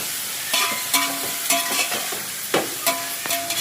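Chopped tomatoes frying in a pan for chicken biryani, stirred with a spoon that scrapes and knocks against the metal in uneven strokes over a constant bright sizzle, close and fairly loud, with no talking.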